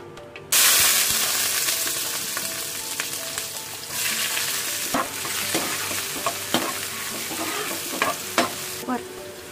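Oil crackles in a hot pan beside onions turning golden, a sudden bright sizzle that starts abruptly and holds steady and close, broken by occasional sharp pops and scraping stirs.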